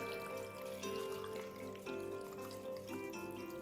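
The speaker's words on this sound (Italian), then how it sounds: "Ricopriamo tutto poi con circa 1 litro di acqua" About a litre of water poured over a rabbit marinade of juniper berries, celery, onion, garlic and black peppercorns, a steady continuous splashing pour heard close.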